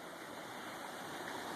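Creek water flowing at Boeing Creek, a soft, steady rushing and burbling heard faintly and alone for a moment.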